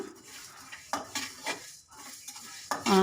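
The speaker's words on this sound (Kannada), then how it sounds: "ಈಗ ಅದೇ ಬಾಣಲಿಗೆ ನಾನು ಫಸ್ಟ್ ಧನಿಯಾ ಹಾಕ್ಕೊಂಡಿದ್ದೀನಿ" Coriander seeds rattle and scrape in a dry pan as a utensil stirs them in short bursts, with a metallic clink near the end.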